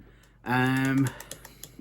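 Keystrokes on the keyboard of a Compaq LTE Elite 475CX laptop: a few light, scattered taps close by that follow a brief sustained tonal sound.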